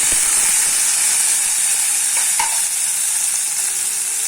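Tomatoes and spices roast in a pan for egg bhurji with a loud, steady frying sizzle and hiss. One brief clink of a utensil sounds partway through.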